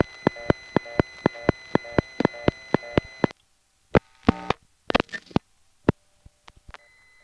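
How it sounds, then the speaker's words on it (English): Central office exchange tones on a telephone line: a rapid run of short, evenly spaced busy-signal buzzes for about three seconds, followed by scattered clicks and brief tone bursts, with no talking. "A central office like this will have very often more than one fast busy signal."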